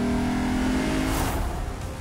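Lexus RC F with a lightweight titanium exhaust accelerating hard, a loud, close engine roar rising steadily in pitch, with a whooshing swell near the end as the revs climb.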